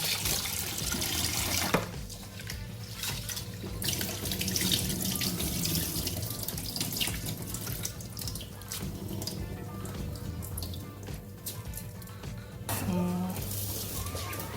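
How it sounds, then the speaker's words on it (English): Tap water runs steadily into a bowl while rice is washed, a continuous close splashing with small shifts in the flow and a brief voice near the end. "So we wash this our rice."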